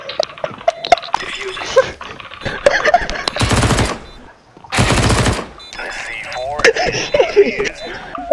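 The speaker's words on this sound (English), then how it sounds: "Why are you shooting me?" Bursts of automatic gunfire from a shooter video game, two loud dense volleys in the middle, with players talking and laughing around them.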